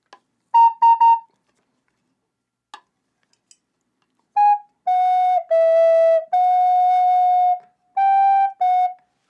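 Native American style flute imitating a train whistle, a few short breathy toots followed by longer sustained two-note blasts, clear and close with silence between phrases.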